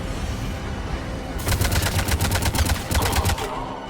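Rapid automatic gunfire in the Mass Effect 3 game, bursts of close, loud shots rattling off for about two seconds after a quieter start, then a second short volley over a low rumbling backdrop.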